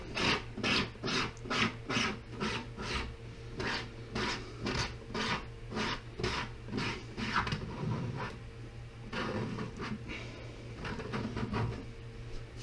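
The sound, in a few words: scraping bubble hash down to the middle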